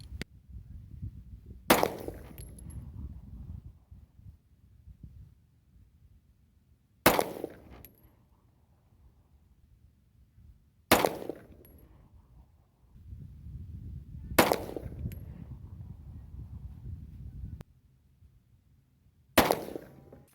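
Walther PPS pistol firing 9mm subsonic reloads with 4.3 grains of Power Pistol powder: five sharp, loud shots spaced several seconds apart outdoors, each followed by a short rumbling echo.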